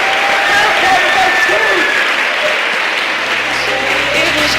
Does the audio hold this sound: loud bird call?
no